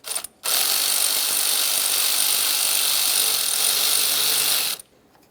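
A 10mm wrench ratchets steadily on a bolt at the back of a new AC compressor on a 2001-2005 Ford Explorer Sport Trac, one continuous close clicking run of about four seconds.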